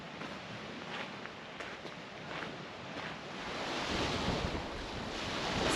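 Waves wash onto a winter beach on Denman Island while wind buffets the microphone, a steady broad rushing that swells louder toward the end.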